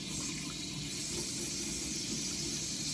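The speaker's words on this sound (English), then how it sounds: "You've got to wash your hands." Running water from a kitchen sink tap as hands are washed before preparing pie, a steady, close broadband splashing hiss that holds without a break.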